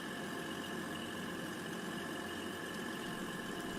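A 10-car Class 180 Voyager diesel train in Grand Central livery idles with a steady, continuous engine hum and broadband rumble, unchanging throughout and with no talk.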